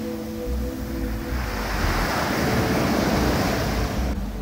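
Ocean waves wash onto a tropical island beach at high tide, a steady loud roar of surf with rising swells and some wind buffeting the microphone, no voices.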